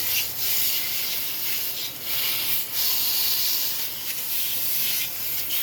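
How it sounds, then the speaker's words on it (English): Cleaner is sprayed onto a window air conditioner in repeated short, hissing bursts, several in a row, close and fairly loud with no talking. "Spray it again real good."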